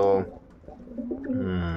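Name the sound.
female racing pigeon cooing in pigeon loft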